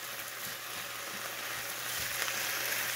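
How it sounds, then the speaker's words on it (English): Chicken fries in a pan at home with a steady, close crackling sizzle and faint stirring sounds, no voices over it. "got the chicken frying away here."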